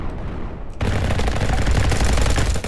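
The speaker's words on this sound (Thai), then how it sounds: "ยิงไปก่อนนะกดไปก่อนโดนหรือไม่รู้แต่กดไปก่อน" Loud, sustained automatic gunfire from a Roblox shooter styled after Call of Duty. A dense, continuous burst starts abruptly just under a second in and holds steady to the end, with no talk over it.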